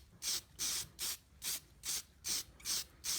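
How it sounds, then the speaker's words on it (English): Yellow spirit-based alcohol dye sprayed onto a wooden hollow form on a lathe, eight short close hissing bursts in an even rhythm, quiet between each spray. "I'm gonna start off with some yellow spray dye like this right here"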